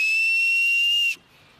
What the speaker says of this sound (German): Noch ein bisschen lang, das Pfeiferl.